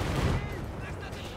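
Tank gunfire in Company of Heroes 3 involving an M3 Lee/Grant, with a short burst of heavy shot sounds at the start, then decaying into quieter battle noise.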